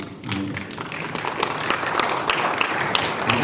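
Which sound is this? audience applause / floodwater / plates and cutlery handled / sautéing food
audience applause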